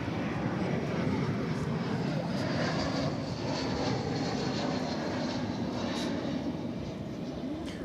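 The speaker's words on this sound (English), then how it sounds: "From Ontario, California comes this Airbus A321 American Airlines Flight 341." An American Airlines Airbus A321 on Flight 341 from Ontario, California at DFW Airport gives a steady, loud jet roar that fills the whole stretch and fades slightly near the end, with voices talking over it.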